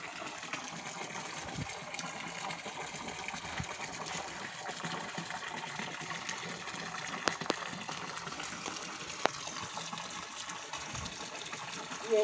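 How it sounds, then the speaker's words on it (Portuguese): Water gushes and churns steadily while being oxygenated at a farm, a continuous broadband rush with no break and occasional faint clicks. "A oxigenação da água."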